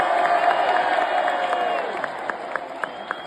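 A packed WWE Raw arena crowd in London cheers and chants for Cody Rhodes, a loud, sustained roar that eases slightly toward the end while sharp claps pop through it.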